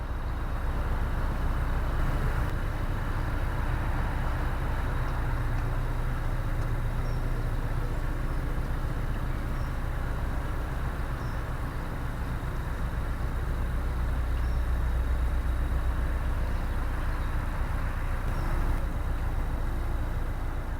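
Road traffic rumbling overhead beneath a modern road bridge, a steady dense low roar of passing cars and trucks that stays loud and unbroken throughout, with no speech.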